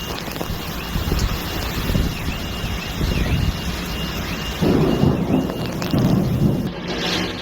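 A violent June thunderstorm in France rumbles and roars with strong gusting wind buffeting the microphone, the thunder swelling in heavy low surges, loudest near the end.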